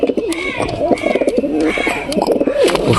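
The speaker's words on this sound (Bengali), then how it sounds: "খুব সুন্দর পায়রা।" Pigeons coo close by in a soft, repeated throaty warble over several phrases, with faint background noise.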